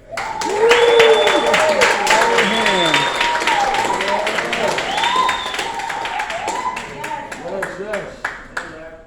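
Audience applause and cheering for Reverend Larry Ham at an evening event in Newark, New Jersey, loud sustained clapping with whoops and shouts, fading near the end.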